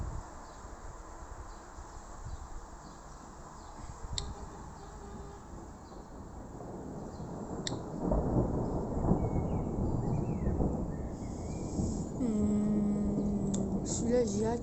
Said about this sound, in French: Il est lourd l'orage.